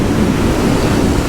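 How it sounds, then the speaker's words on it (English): Strong, continuous wind roars and buffets against the microphone on a motorcycle ridden fast at about 55 mph, loud and unbroken throughout. "It is a little bit windy."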